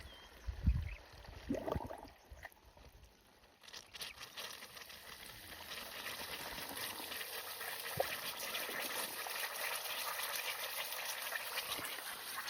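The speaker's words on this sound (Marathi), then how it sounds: "बघू शकता पाणी आलेलं आहे मित्रांनो" Water gushes steadily from a borewell pipe in a continuous rushing hiss, following a few knocks and thumps at the start.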